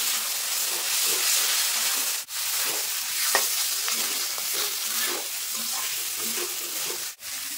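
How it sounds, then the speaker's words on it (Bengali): Fried potatoes are stirred with spice masala in a hot pan, making a loud continuous sizzle and hiss with scraping stirs and two brief dips in the sound. "তো আলুর সঙ্গে মশলাটা আমি সুন্দরভাবে কষিয়ে নেবো"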